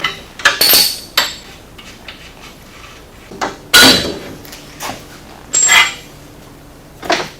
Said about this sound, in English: we can go ahead and remove the lower shock bolt